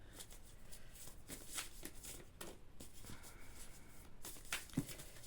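A deck of oracle cards is shuffled and cut by hand, giving faint, soft riffling and patter in intermittent bursts, quiet and close, with no talking.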